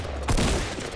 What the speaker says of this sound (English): I hear shots from northwest.